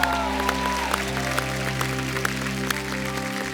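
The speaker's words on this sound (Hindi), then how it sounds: "जोरदार तालियों से स्वागत कीजिए" Studio audience applause welcoming a singer onto a comedy talk show stage, a steady wash of clapping held at an even level from start to finish, with music tones sustained underneath.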